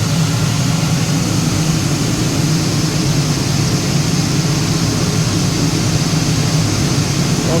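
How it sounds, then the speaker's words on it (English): Loud, constant roar from the 3-phase high voltage burner fan motor of a Viessmann boiler, a steady low hum with broadband noise close up, no talk. "It's very loud. That's a 3-phase high voltage motor."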